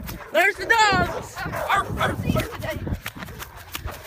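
Dogs bark and yip outdoors during a day of driving RC cars on a trail, a few sharp calls early on, mixed with people shouting and talking over wind and movement.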